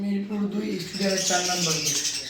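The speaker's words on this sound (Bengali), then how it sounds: "তারপর রয়েছে ককাটেল পাখি আরও অনেক অনেক পাখি রয়েছে" Birds including cockatiels chirp and squawk in a wholesale bird shop in Mirpur, with bright tweets rising over a person talking nearby.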